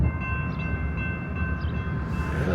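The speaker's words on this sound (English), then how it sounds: "There's a train in town, it looks like." A train rolls through a small Wyoming town, heard as a steady, close rumble of rail cars with a continuous low roar and a faint tonal hum, and no talking over it.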